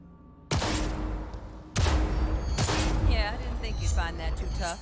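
Gunfire from shooting in Cyberpunk 2077, fired from a moving vehicle: loud bursts of shots erupt in two waves, mixed with game noise and electronic tones, while a voice talks over it.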